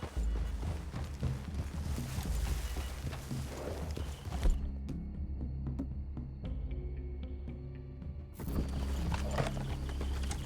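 Horses walking in Red Dead Redemption II give a steady clip-clop of hooves on the ground. The hoofbeats are close and continuous, with a quieter stretch in the middle before they pick up again.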